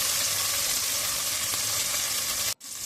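Sliced onions fry in a pan with a steady, close sizzle that runs unbroken before dropping briefly to near silence at the end, with nobody talking.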